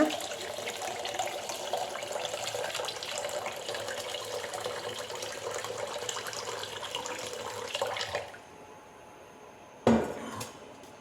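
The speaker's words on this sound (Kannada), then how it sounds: "ಆ ತೊಳ್ಕೊಂಡಿರೋ ಅಕ್ಕಿಗೆ ಮೂರರಷ್ಟು ನೀರು ಹಾಕೋಣ" Water is poured steadily into a pot of washed rice for about eight seconds, a close splashing gurgle, then stops, followed by a sharp clink of metal.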